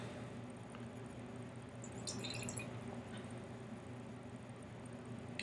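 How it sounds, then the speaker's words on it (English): Big Boss Harvest Time Ale is poured into a tulip glass, a faint, steady trickle and fizz with a few brief splashy drips, quiet under low room hiss. "I'm pouring it into the same tulip glass I used last time."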